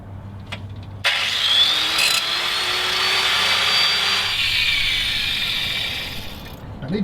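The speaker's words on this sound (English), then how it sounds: "I'll get my small grinder, come out here and try to grind that off." A small angle grinder whines loudly and continuously close by while cutting off a broken slack adjuster bracket on a step-deck trailer, spinning up abruptly and grinding for several seconds before easing.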